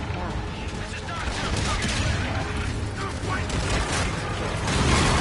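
Rapid gunfire rattles in a space shooter video game, bursts of shots and mechanical clatter swelling toward the end, loud and dense throughout.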